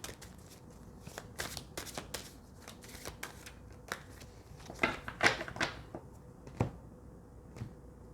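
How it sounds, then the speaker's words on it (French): Tarot cards being shuffled and drawn, close and fairly clear: rapid riffling and slapping card sounds in irregular bursts, a louder flurry midway, then a few separate snaps as cards are laid down, no speech. "Je vais tirer encore d'autres cartes par rapport à cette personne"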